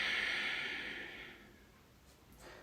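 A long, soft exhale during a yoga class, a breathy rush close to the mic that fades out over a couple of seconds.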